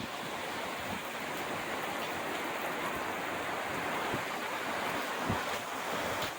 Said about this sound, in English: There's a good strong gust.